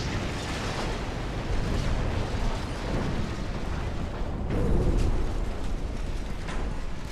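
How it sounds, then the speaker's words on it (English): A battleship's ammunition detonating in the naval game Ultimate Admiral Dreadnoughts, heard as a dense, sustained roaring rumble that swells twice, thick and loud throughout with no clear separate blasts. "Ammo detonation to go with it."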